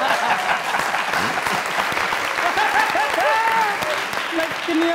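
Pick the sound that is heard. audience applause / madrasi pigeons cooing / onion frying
audience applause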